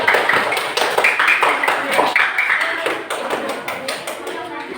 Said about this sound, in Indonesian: kasih tepuk tangan dulu buat kelompok 2